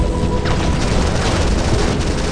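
Heavy Titan weapons fire in the War Robots video game, a dense and continuous roar of booming blasts and rapid impacts, loud and close, with no gaps.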